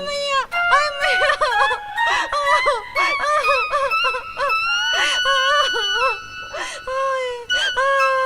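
A woman screams and wails for help in a Hindi village comedy scene, loud, repeated high-pitched cries in rising and falling bursts that continue almost without pause, close to the listener.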